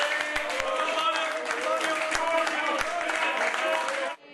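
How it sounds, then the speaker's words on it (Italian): Applause breaks out at Lega party headquarters as Toni Miatto is confirmed the new mayor: a dense, steady wash of clapping and excited crowd voices running close and loud for about four seconds, then cutting off abruptly. "nella sede del Carroccio scatta l'applauso"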